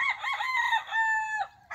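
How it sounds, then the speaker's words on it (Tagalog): A stag rooster crows a single loud, close cock-a-doodle-doo with a drawn-out ending, standing alone without voices. "Gwapong manok. Lapitan mo mukha."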